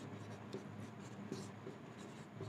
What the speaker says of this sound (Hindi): चलिए इसको लिखते हैं हम